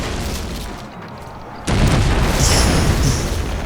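Cannon fire and explosions in a naval battle from the video game Anno 1404 Venedig, with a quieter rumbling stretch followed by a loud, sustained burst of booming blasts that carries through to the end.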